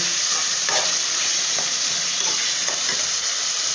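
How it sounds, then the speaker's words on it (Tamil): Onions and tomatoes sautéing in a pan for a fish curry, a steady loud sizzle with a few soft stirring scrapes, close and continuous. "இப்போ வெங்காயம் தக்காளி நல்லா வதக்கட்டும்"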